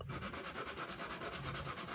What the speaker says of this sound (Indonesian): bagian yang sebelahnya kita gergaji sama yang pertama kita buat